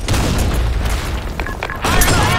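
A grenade blast in the online shooter Blackshot: loud, dense booming with rumbling gunfire throughout, a sharp burst near the end, no voices in the moment.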